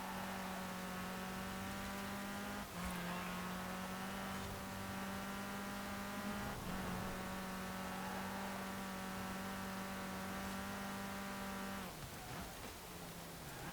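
A hot rod car engine in the video game Forza Horizon 4 holds a steady, loud droning note at cruising revs, with brief pitch dips near three, six and twelve seconds as it shifts or lifts off.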